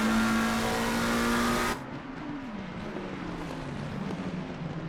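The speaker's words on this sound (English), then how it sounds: "We're on board with Kyle Williams in the exclusive esports number 789 McLaren." A McLaren race car engine in a sim racing esports event at Zolder screams at high revs, then drops abruptly to a lower, fainter drone as it shifts and builds again, with no talk over it.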